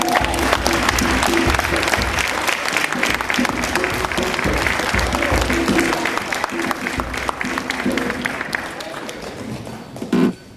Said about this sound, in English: Come on, give him a round of applause, Dr. Ali Muhammad.